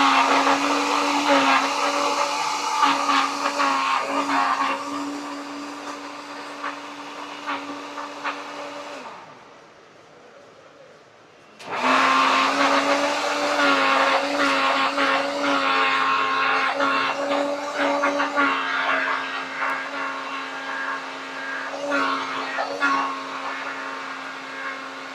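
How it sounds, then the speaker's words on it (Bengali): A loud motorized blender at a roadside juice stall whirs steadily while making lemon mint juice. It drops out briefly near the middle and then roars back at full strength, close and dominant, with no talking. "তো ব্লেন্ড হচ্ছে।"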